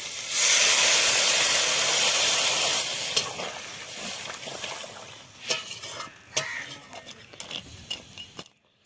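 Water poured into frying crab masala sets off a loud, steady sizzling hiss for about three seconds. It then settles into quieter bubbling with scattered clinks of a pot and spoon, and no one speaks.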